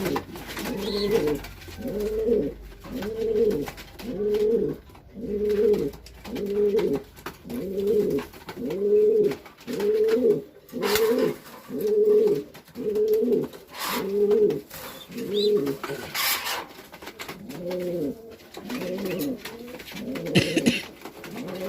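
Racing pigeons cooing nearby in a steady repeating rhythm of low throaty coos, about one each second, going on without a break for over twenty seconds, with no talking.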